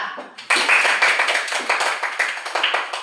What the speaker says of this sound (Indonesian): silakan dulu tepuk tangan dulu buat kelompok 2